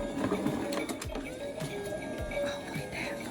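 A toy claw machine whirs and clicks as it moves to grab one of six eggs, with a steady mechanical motor drone, a rising whine in the middle and several short knocks, close and continuous.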